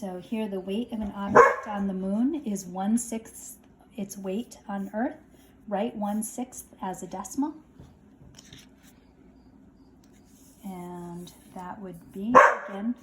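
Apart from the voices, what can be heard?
dog barking at birds outside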